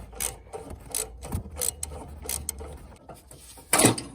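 A ratchet works loose threadlocked bolts on an L5P Duramax exhaust manifold, giving bursts of clicking and grinding mechanism noise in an uneven rhythm, close up, with a louder rasping burst near the end.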